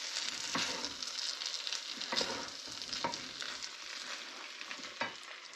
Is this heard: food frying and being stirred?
yes